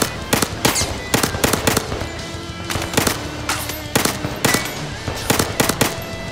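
Bursts of rapid automatic gunfire in the VR shooter Zero Caliber, sharp cracks fired in clusters of quick shots with short gaps between them, loud and close.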